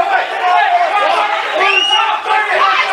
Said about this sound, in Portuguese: A torcida reclama que o Dudu bateu, que a bola escorregou